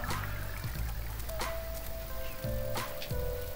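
Rain falling in the farming simulation game Farm Manager 2018: a steady hiss of rainfall with soft trickling under looping game tones, fairly close and even, with no one speaking.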